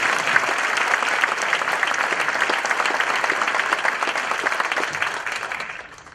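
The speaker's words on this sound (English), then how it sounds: "This is worth clapping for." A large audience at a county address claps in a dense, sustained ovation that holds steady for several seconds, then starts to taper off at the end.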